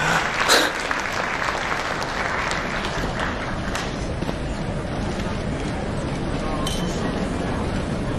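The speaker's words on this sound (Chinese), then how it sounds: "掌声欢迎。" A banquet crowd in Hong Kong gives a dense, continuous round of applause as a young master is welcomed on stage to speak, with a few glassy clinks scattered through it.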